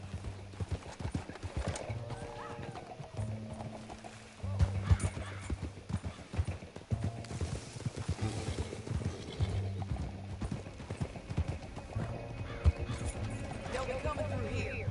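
Horse hooves clip-clop at a gallop in Red Dead Redemption 2, with the horse whinnying now and then and a steady rhythmic pounding running through the whole stretch, mixed with game music and someone talking over it.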